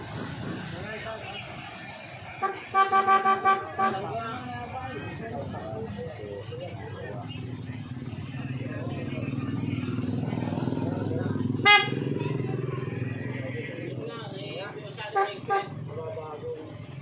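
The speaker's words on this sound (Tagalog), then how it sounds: "Ayun po ang busina." A motorcycle horn toots in a quick burst of several honks, then once more later, over an idling engine and nearby talking, while the motorcycle is being repaired at a tricycle terminal in the Philippines.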